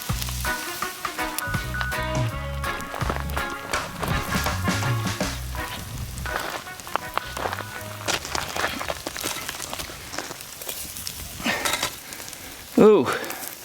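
Wild chicken cooks over a fire on hot lava rocks, sizzling steadily throughout with occasional clatter and light scraping, while a voice talks faintly in the background.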